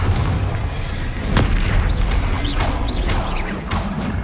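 Explosive blasts from Bombarda and Confringo spells in Hogwarts Legacy combat, a series of sharp booms and crashes with whooshing bursts, loud and close, layered over busy game noise.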